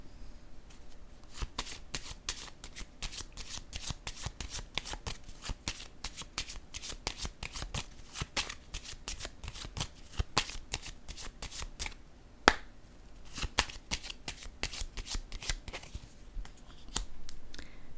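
Tarot cards are shuffled and laid down in a long run of quick, crisp riffling flicks and taps, close and fairly quiet, with one sharper slap midway.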